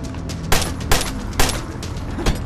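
Gunshots ring out in the State of Decay video game, four sharp loud cracks spaced irregularly over a dull, rumbling game background with no talk.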